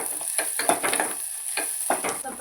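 Green chilies sizzle and fry in a pan on the stove, a steady crackling hiss broken by repeated stirring scrapes, close and continuous with no talking.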